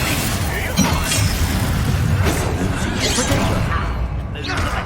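An icy Glacier spell effect in Hogwarts Legacy, a dense, roaring wash of shattering, crunching noise that sustains for several seconds with swelling whooshes, loud and continuous, with chaotic combat sound mixed in.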